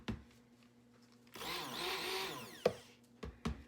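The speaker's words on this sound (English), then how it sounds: "I have my stick blender here" A motorized stick blender whirs loudly for about a second and a half, then cuts off, followed by a few sharp knocks, while making pomegranate body soap.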